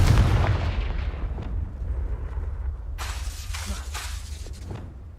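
Confringo fire spell explosion in Hogwarts Legacy: a loud booming blast that rolls off into a rumbling tail, then a run of sharp crackling bursts.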